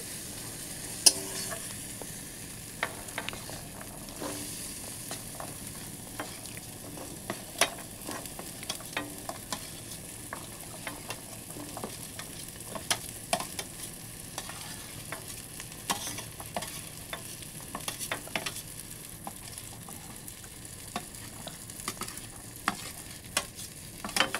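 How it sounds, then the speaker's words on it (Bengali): Fried potatoes and chickpeas get stirred in a pan, a low steady sizzle broken by frequent sharp scrapes and clicks of the spoon against the pan, with no speech. "ভালো করে মিশিয়ে নেব এবারে।"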